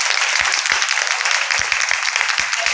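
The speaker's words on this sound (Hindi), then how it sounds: "मैं चाहता हूँ कि एक बार मेरे गुरुओं के लिए जोरदार तालियां।" An audience bursts into loud, steady applause for a speaker's mentors, many hands clapping densely throughout with a few sharper individual claps standing out.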